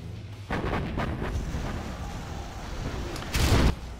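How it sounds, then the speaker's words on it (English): Artillery fire in a video game match on the Drallim Desert map: heavy booming blasts, one near the start and a louder one near the end, joined by a continuous low rumble, with no speech. "Artillery is on the way again"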